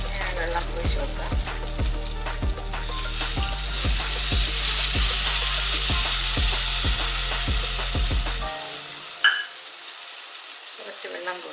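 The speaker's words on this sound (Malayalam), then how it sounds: "ഇനി നമുക്കിതിലോട്ട് പുളി വെള്ളം ഒഴിച്ച് കൊടുക്കാം." Tamarind water hits a pan of frying onions for Idichakka Theeyal, jackfruit curry, and erupts into a loud, steady sizzle with faint stirring ticks. After about eight seconds it drops out, leaving near silence and a small clink.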